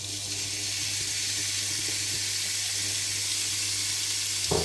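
Lardons sizzle in butter and oil in a pan, a steady bright hiss of frying that runs continuously at close range.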